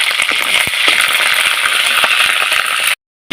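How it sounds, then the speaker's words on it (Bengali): Onions and nigella seeds frying in hot oil and being stirred, a steady loud sizzle with scattered crackles and pops and occasional utensil scrapes, cutting off abruptly near the end. "এবার আমি একটু কালো জিরে ফোটনে দিলাম, একটু পেঁয়াজ দিলাম, দিয়ে পেঁয়াজটা ভালো করে নেড়ে নেব"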